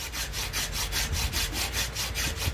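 A stone tool scrapes along a green sapling bow stave in quick, rhythmic back-and-forth strokes, close and loud, a rasping wood-scraping sound repeating steadily with no talking.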